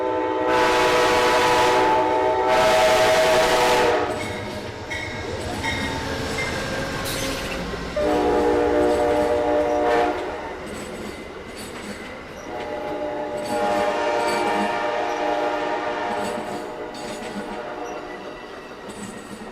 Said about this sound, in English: The Amtrak train.